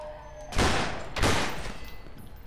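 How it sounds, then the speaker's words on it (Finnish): Two gunshots in the horror shooter game Underhell, each a loud, sharp blast with a trailing reverberant tail, fired about two-thirds of a second apart with no talk. "Mä just ammuin tosta kypärästä läpi, niinku luodin"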